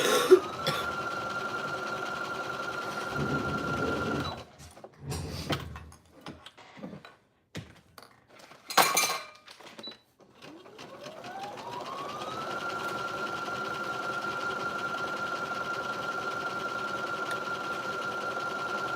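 A sewing machine stitches fabric wings onto a top, a steady close mechanical hum. It pauses into clicks and handling noises, then starts again and runs on.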